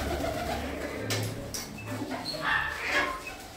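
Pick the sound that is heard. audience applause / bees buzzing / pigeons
pigeons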